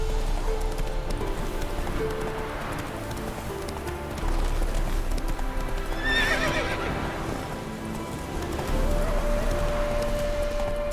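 Galloping horse in the video game The Witcher 3: Wild Hunt, with steady rapid hoofbeats running the whole time, a whinny midway and game music underneath.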